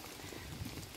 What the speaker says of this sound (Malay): keadaan cuaca yang hujan